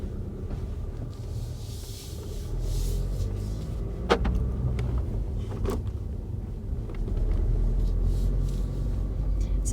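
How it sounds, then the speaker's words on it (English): Interior of a diesel Volkswagen Golf driving on mountain roads, a low steady engine rumble with road noise, a couple of sharp clicks or creaks midway, and the drone rising slightly toward the end. "We're not in the Mini today, but in a Golf. It's a diesel car."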